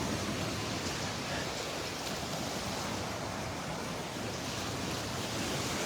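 Waves washing onto the beach at Delnor-Wiggins park in the morning, a soft, steady wash of surf with some wind, fairly faint and continuous.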